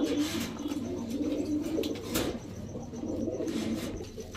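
Pakistani Teddy Rampuri high flyer pigeons coo close by in low repeated murmurs over a steady background, with a few brief sharper sounds.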